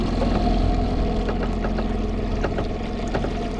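A 20-foot aluminum boat's motor gives a steady low drone with a rumbling, vibrating hum transmitted through the hull and some watery splashing, continuous throughout.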